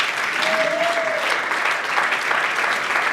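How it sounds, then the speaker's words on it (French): An awards-ceremony audience applauds steadily for Roch Bokabé la Bodo, dense continuous clapping from a large room with a brief voice or whistle rising over it early on. "Est-ce qu'on peut vraiment applaudir pour Roch Bokabé la Bodo,"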